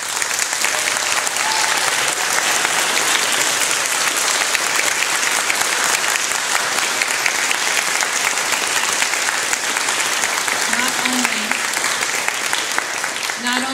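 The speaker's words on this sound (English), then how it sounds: "Students, you want to give them a round of applause?" An audience at a spring chamber music recital claps steadily for the student musicians, dense sustained applause filling the room at full loudness for the whole stretch without letup.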